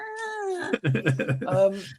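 A person's voice imitates two kittens fighting, with drawn-out meows breaking into quick choppy yowls and a rising squeal at the end, close and loud.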